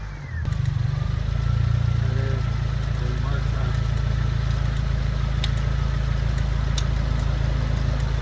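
A Honda car engine idles nearby with a steady low rumbling hum throughout, while voices talk faintly over it.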